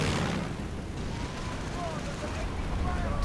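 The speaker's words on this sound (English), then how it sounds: "Another strafing run right there." During a World War II strategy game, an aircraft makes a strafing run: a dense burst of rapid gunfire and explosions that stays loud and continuous, with faint whistling tones layered over the battle.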